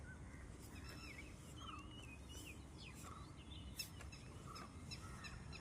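Faint, distant bird cries and squawks from a bird under attack by crows come in scattered bursts over a steady outdoor background hiss.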